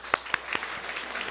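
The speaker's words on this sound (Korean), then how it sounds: "여러분 박수 한번 해주세요" Church congregation applauding a departing drummer during a sermon, a short burst of scattered claps with a couple of sharper hits at the start, fairly soft and heard from a distance in a reverberant hall.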